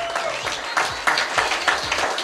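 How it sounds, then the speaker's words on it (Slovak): Applause from the audience at the final evening of a Slovak high-school beauty pageant, honouring the newly crowned winner; dense, steady clapping fills the hall throughout, loud and continuous. "veľký potlesk pre Miss stredných škôl Slovenskej republiky 2013 Ivana Petrušová zo Svitu."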